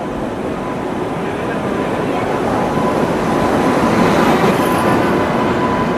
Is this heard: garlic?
no